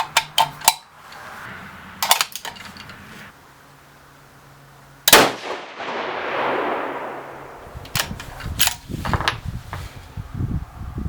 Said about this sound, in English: Did you hear that hang fire?